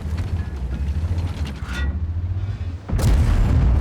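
In World of Tanks, an AMX M4 51 tank gun fires one heavy shot, a sharp loud blast that cuts in late, over a steady engine drone and faint mechanical creaks.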